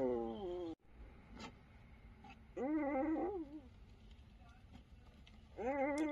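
Abandoned newborn puppies shivering in the winter cold, giving high, wavering whimpers and squeals in three separate bouts, close by, with quiet rustling and faint background noise in between.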